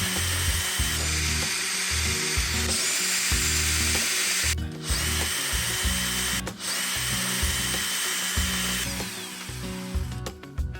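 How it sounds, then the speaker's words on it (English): Power driver spinning out bolts with a 10mm socket on a Kia Soul third brake light, a loud close whir in several sustained bursts with short pauses between them and no talking. "Remove the bolts using a 10mm socket wrench."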